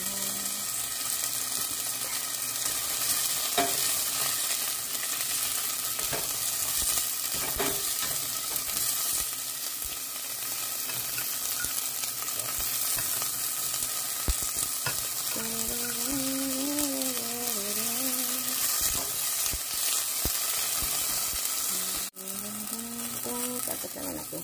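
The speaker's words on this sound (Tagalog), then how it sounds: "Nagisa natin sibuyas." Onions are sautéed in a pan as the start of ginisang repolyo, a cabbage dish with sardines. A dense, steady sizzle fills the whole stretch with occasional stirring scrapes, and a voice speaks briefly near the end.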